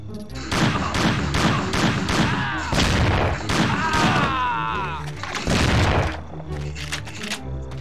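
Gunfire in the video game Mafia 2, a steady run of sharp repeated shots in quick succession, with a voice breaking in between bursts.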